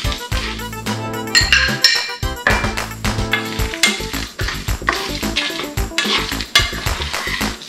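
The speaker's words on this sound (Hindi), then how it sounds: "ये मेरे पास खुश्क लाल मिर्चें हैं, 8 से 10 हैं, ये भी इसमें डाल दें" Dried red chillies being added with cumin to a pan for a pomegranate chicken masala, with a busy run of close clinks and clatters of a spoon and metal pan and a faint sizzle underneath.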